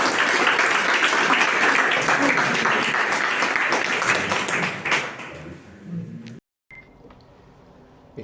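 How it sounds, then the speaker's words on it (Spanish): Audience applause at a parish gathering at Stella Maris church, loud sustained clapping from many people that fades out, then a brief silence and quiet room tone with faint voices. "Y como no estamos en el templo, lo podemos aplaudir."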